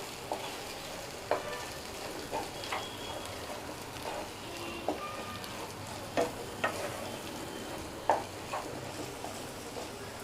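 Matar kachori filling sizzles in a pan under steady frying hiss, while a spoon scrapes and stirs it at irregular intervals, soft and close.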